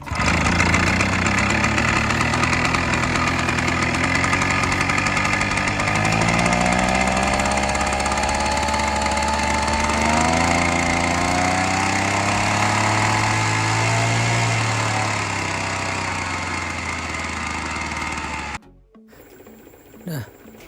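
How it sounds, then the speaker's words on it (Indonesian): A small petrol engine on a crop sprayer runs steadily close by after being restarted from a stall, its revs rising and falling slightly in a buzzing drone before cutting off abruptly, leaving faint background sound. "akhirnya mesin yang tadinya memang macet sekarang sudah hidup ya teman-teman"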